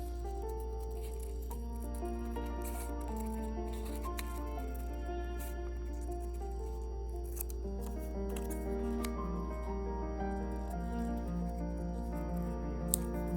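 Scissors snip away paper scrap from a one-point perspective drawing, a quiet run of small cuts over steady background music with a low constant hum.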